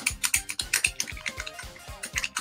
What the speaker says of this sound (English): Nice clicking button right there.